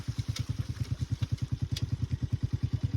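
A motorcycle engine runs beside a stream during a service and first-gear performance check, thumping in a steady, fast, even rhythm that stays close and moderately loud throughout.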